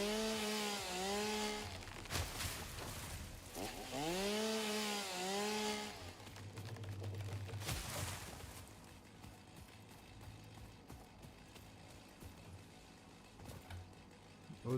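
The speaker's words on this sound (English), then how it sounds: "grab the chainsaw and just start up on more destruction" Chainsaw from the video game Satisfactory buzzing in repeated rising and falling revs during the first six seconds, then a lower steady drone with scattered game noises, close and loud with no talk.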